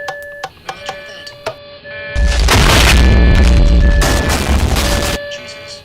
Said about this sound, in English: ATC, we may have had an explosion on board